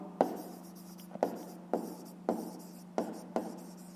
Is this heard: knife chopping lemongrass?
no